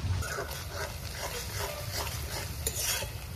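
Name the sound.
chopped onion and whole spices frying in hot oil in a wok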